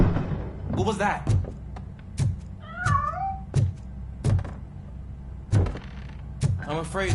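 In the video game RoboCop: Rogue City a cat meows clearly several times, spaced among soft thumps and knocks over a steady low background hum.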